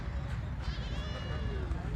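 A goat bleats with a wavering call among other livestock at a busy animal market, the goat standing with its two kids while crowd chatter and animal noise run underneath.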